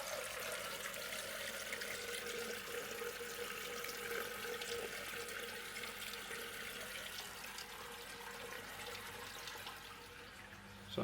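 A toilet cistern fills with water, a steady rushing and hissing flow that stays constant for several seconds against a quiet room, fairly close.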